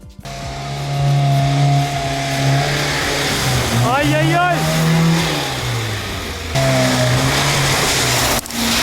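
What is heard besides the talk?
car drifting in snow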